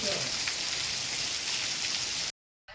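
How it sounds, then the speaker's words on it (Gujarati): Rain pours down in a dense, even hiss that runs steadily, then stops abruptly into near silence before a brief return. "અત્યારે વરસાદ આવી ગયો છે"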